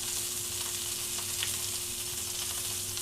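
Beef tri-tip sears in a hot pan with a steady, dense sizzle and crackle that stays loud and even throughout, with no voices.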